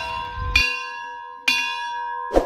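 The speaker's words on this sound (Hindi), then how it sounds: "यही है वो चमत्कारी घंटी जिसको मनोकामना मांग के 3 बार बजाने से सारी मनोकामनाएं पूरी हो जाती हैं" A temple wishing bell at Guru Shikhar on Mount Abu is struck three times, loud and close. Each bright metallic clang rings on with a long, slowly fading tone until the next strike.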